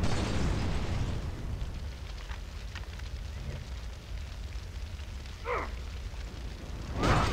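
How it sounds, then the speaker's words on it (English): Bomb and Molotov explosions in Far Cry 3 gameplay: a sustained roar of burning and blasts fills the clip, with a louder burst near the start and another at the very end, and no talk. "Oh, they're throwing bombs at me."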